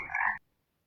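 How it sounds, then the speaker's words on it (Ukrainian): A frog gives a single short croak, close and fairly loud, lasting under half a second before it cuts to silence. "Жаби співають на дощ. Коли жаби квакають голосніше, часто скоро піде дощик."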